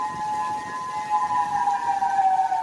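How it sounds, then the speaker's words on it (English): Tornado warning sirens blaring across the southern US during an Easter Sunday severe weather outbreak, a loud, sustained civil defense wail holding a steady pitch with no voices. "Tonight, sirens blaring across the south"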